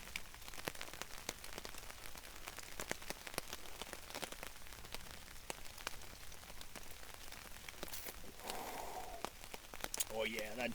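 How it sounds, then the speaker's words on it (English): Rain patters on a tarp shelter at a hammock and lean-to campsite, a faint, steady spread of small drops with a few sharper hits. A voice briefly comes in near the end. "it can start raining again now. It's coming down a little bit, huh?"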